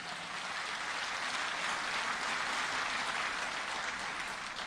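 Steady, dense applause from a hall full of party activists at a political meeting, moderately distant and unbroken for several seconds with no talk over it.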